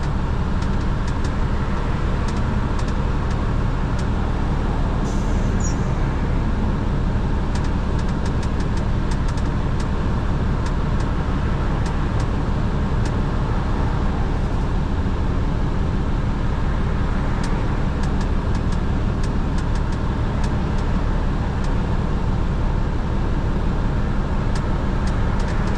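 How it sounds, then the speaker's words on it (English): Steady, dense traffic rumble on bumper-to-bumper Nimitz Highway, heard from inside a truck pulling a trailer, with a constant low engine drone throughout and no talking. "making our way onto Nimitz Highway, which this time of day is bumper to bumper"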